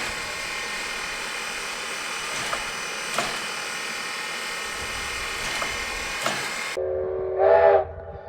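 Virginia and Truckee Railroad steam locomotive at the Virginia City station, blowing off steam in a loud, steady hiss with a few sharp bursts, then a short whistle blast near the end.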